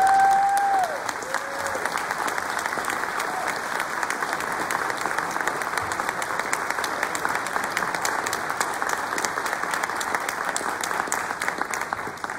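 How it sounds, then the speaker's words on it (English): An audience applauds a speaker at a lecture, sustained dense clapping that holds steady throughout, with a brief tone at the start. "Thank you so very much for your kind applause"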